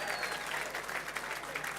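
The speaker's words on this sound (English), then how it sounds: "They deserve one more better applause" Applause from a parade crowd honouring a retiring officer: sustained, even clapping from many hands, heard at a moderate distance with a faint whine running through it.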